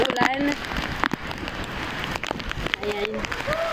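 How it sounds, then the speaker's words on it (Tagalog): Heavy rain from typhoon Kristen pours steadily onto surfaces in a narrow alley, a dense hiss with strong wind, while people talk over it. "ang lakas ng ulan."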